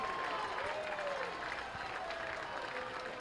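Baseball crowd at a Southern Maryland Blue Crabs minor-league game cheering and applauding steadily as the home team nears a win, a broad continuous roar with whistles and scattered shouts throughout.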